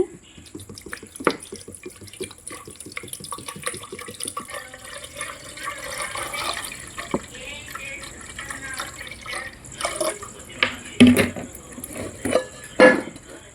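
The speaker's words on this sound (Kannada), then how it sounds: "ನೋಡಿ ನಾನು ಒಂದು ಲೀಟ್ರಷ್ಟು ನೀರು ಹಾಕ್ಕೊಂಡಿದ್ದೀನಿ" Water splashes into a pressure cooker in uneven bursts, mixed with drips and the clatter of the vessel. It is close and intermittent, growing louder toward the end.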